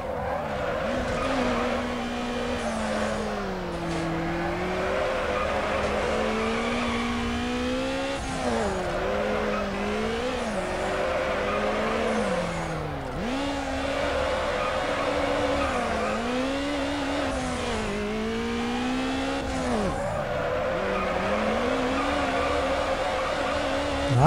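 Racing car engine in Need for Speed: Underground, revving and shifting continuously with rising and falling pitch, tires squealing through corners, loud and close for the whole stretch with no talk.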